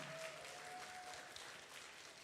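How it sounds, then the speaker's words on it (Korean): A church congregation applauds during a teacher appointment and Sunday school graduation ceremony, soft, steady clapping heard from a distance with a faint tone running underneath. "박수로 축하해 주시기 바랍니다."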